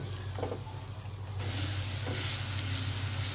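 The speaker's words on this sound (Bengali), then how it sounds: "আমরা মশলাটা কষিয়ে নিচ্ছি" Spices with garlic and ginger paste cooking down in a pan for a pabda fish bhuna, a steady close sizzle with a few soft stirring sounds, growing slightly brighter partway through.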